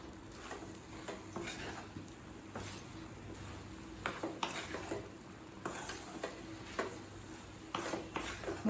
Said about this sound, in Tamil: இப்போ இதை நல்லா மிக்ஸ் பண்ணிக்கலாங்க